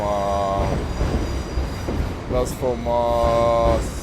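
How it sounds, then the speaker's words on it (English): A passing train from Portsmouth Harbour rumbles loud and near with squealing wheels and high tonal whines, while people talk over it on an evening walk in Portsmouth, UK. "There goes the train."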